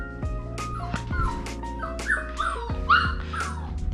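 Several Goldendoodle puppies in their cages whimper and yip in a steady run of short, high cries, close by and fairly loud, with no talk over them.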